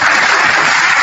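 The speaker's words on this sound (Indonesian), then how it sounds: "Tepuk tangan dulu buat teman-teman kita ya" Audience clapping at a church teaching gathering, a dense, steady burst of many hands close and loud, with no voices.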